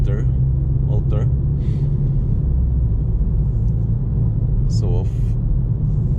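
A Ford Fiesta ST MK8 with its small 1.5-liter three-cylinder engine drives along, giving a steady low drone and road rumble throughout, with someone talking over it.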